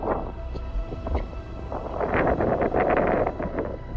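Wind from Round Mountain blows across the microphone outdoors, a steady loud rumble and rush that builds and gusts in the second half.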